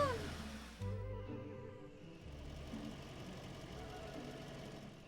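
Cartoon car engine running while driving, a low rumbling idle-like drone with knocking texture, steady and moderately faint after a brief higher sweep at the start.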